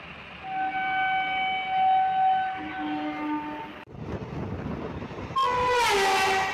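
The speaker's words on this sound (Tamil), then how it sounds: "குருவாயூர்லேருந்து சென்னை எக்மோர் வர குருவாயூர் எக்ஸ்பிரஸுக்காக தாங்க நம்ம ட்ரெயின் சிக்னலுக்காக வெயிட் பண்ணிட்டு இருந்தது" Guruvayur Express train passing near a railway crossing, with sustained horn tones over a rumbling passage, a short break, then a louder, higher whistle near the end.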